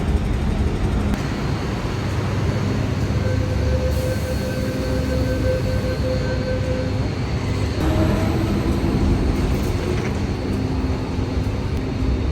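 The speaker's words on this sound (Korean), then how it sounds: "지금 세 번째 지하철인데 생각보다 너무 빨리 왔습니다." A Hong Kong subway train pulls into an underground station with a loud, continuous rumble and faint squealing tones from the wheels and brakes as it slows to a stop.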